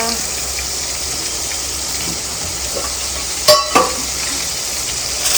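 Steady sizzling of food frying in a pan fills the clip, with a couple of brief clatters of utensils midway.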